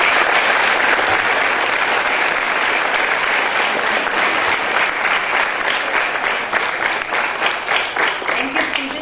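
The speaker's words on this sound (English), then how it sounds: "let us applaud for their good work" An audience at a school prefects investiture claps steadily for about nine seconds, a dense, even roar of many hands that thins slightly toward the end.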